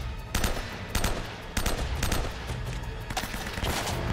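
Rapid bursts of gunfire from the action game Uncharted: Drake's Fortune, several loud volleys cracking out in quick succession and continuing steadily, with no talking over them.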